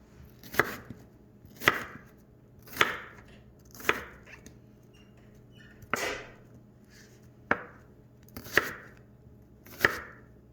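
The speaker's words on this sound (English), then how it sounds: "So I'm gonna cut it into quarters there and slice it down" A knife chops an onion into quarters on a cutting board, giving about nine crisp, evenly spaced thuds close by in a quiet kitchen.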